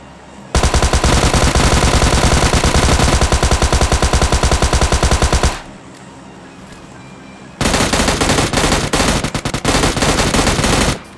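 Automatic gunfire in the PUBG video game, two long loud rapid-fire bursts of about five and three seconds separated by a short pause.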